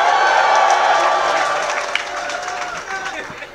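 A live crowd at a dancehall show with Majah Hype cheers and claps loudly and continuously, the broad roar slowly fading over a few seconds.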